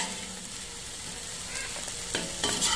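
Coconut milk poured into a hot wok after the shrimp comes out, sizzling steadily and then stirred, with a louder rush of frying near the end, close and without talk.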